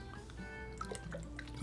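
Someone takes a drink of water during a quiet indoor livestream, giving soft close sips and small liquid drips with no talking.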